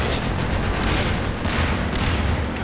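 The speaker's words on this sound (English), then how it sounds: "God, too much explosions." Dense, continuous explosions and gunfire-like blasts from the video game Half-Life 2 roar loudly throughout, with heavy booms layered over one another and no pause.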